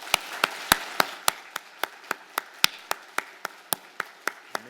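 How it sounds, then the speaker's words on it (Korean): A church congregation at an Easter Sunday service claps in unison, a slow, even series of about seventeen sharp claps in a steady rhythm, up close, with no speech. "영광을 박수로 함께 올려드리십시오"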